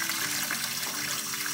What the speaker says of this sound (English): So I'm gonna fill my new pot with water.